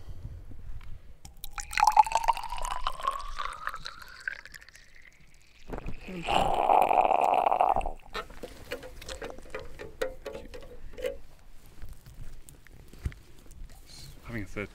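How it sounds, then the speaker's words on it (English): Soil water samples from thawing Arctic ground are drawn up with a syringe and pushed through filters, giving a rising squeaky draw, a hissing push of liquid and small plastic clicks and drips. "we're pulling it out with a syringe and then filtering it"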